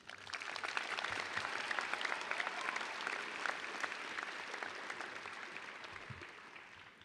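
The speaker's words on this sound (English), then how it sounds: "if you would please give a round of applause for teachers and those who cannot be here today" Sustained applause fills a high school graduation ceremony at Urbana High School, a steady dense clapping from a large crowd that holds evenly throughout and eases slightly at the end.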